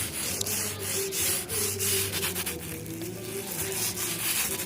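Paper with a little oil being rubbed slowly over a stone grinding slab, a soft close scraping rub with repeated strokes, faint overall and without talk.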